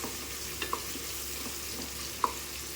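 Onion and green chilli fry in a pan with whole spices while being stirred. The sizzle is faint and steady, with a couple of light clinks from the spoon against the pan.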